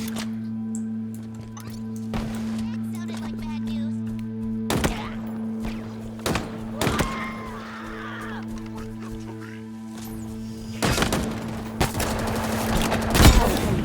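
Gunfire in Halo Infinite: scattered sharp shots and short bursts over a steady humming background, several loud cracks spaced irregularly, with cawing-like game sounds in between.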